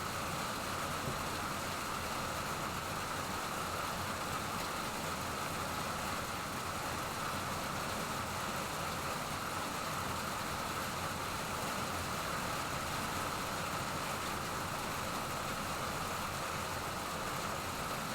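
Steady rain hisses evenly and without a break, a dense broadband wash that holds at a constant, moderate level from start to finish with no voices or distinct drops standing out.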